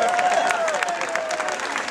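Loud, continuous applause from a live concert crowd at a show in Visciano, a dense crackle of many hands with a raised voice or cheer riding over it.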